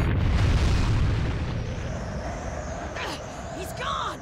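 A bomb explodes in the video game Naruto Shippuden Ultimate Ninja Storm 2, a loud, deep boom at the start that rumbles and slowly fades, with faint game sounds afterward.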